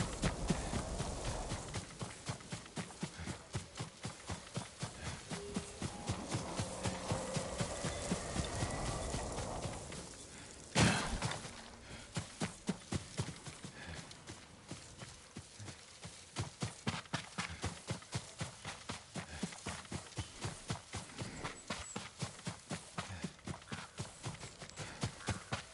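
In the video game Ghost of Tsushima, a horse's hooves clip-clop steadily, close and rhythmic, with a brief louder thud partway through before the walking resumes.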